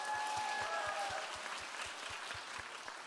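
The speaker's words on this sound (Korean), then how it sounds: "자, 박수 한 번 더 줘야 되겠네." A church congregation applauding in rhythmic unison, steady evenly spaced claps under a broad wash of clapping, fairly faint and distant, with a brief tone sounding near the start.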